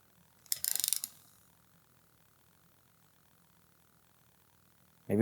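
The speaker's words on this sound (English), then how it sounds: "I'm going to attempt to tighten these down to just 6 foot-pounds" A wrench ratchets in a quick burst of rapid clicks while tightening small clutch basket bolts on a Yamaha TRI-Z 250, then near silence follows before a sudden loud knock at the end.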